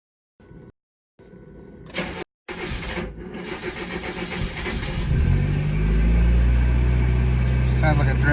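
Mazda Miata 1.6 engine with SpeedEFI, cold starting in a garage after brief clicks and a pause: the starter cranks, the engine catches, sputters slightly, then settles into a loud, steady rising idle.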